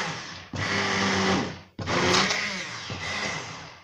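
An electric blender grinds hot cooked tomatoes into a purée in two loud bursts, each motor run starting abruptly, separated by a short stop, with a whining pitch that shifts as the load changes.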